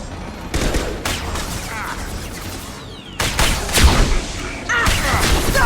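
Gunfire in a Mass Effect 2 firefight: bursts of rapid shots and impacts crackle loudly and densely, with heavier booms standing out, continuing almost without pause.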